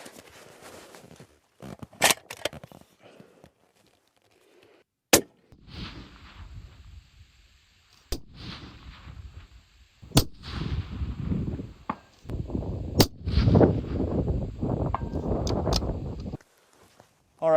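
Rifle shots fired at long-range targets out to 900 yards, several sharp loud cracks spaced seconds apart, each followed by a rolling echo, with handling noise and faint talk between shots.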